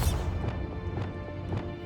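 A Bombarda spell strikes in Hogwarts Legacy with a heavy crashing impact, followed by a few lighter debris knocks over a low rumbling game background, close and fairly loud.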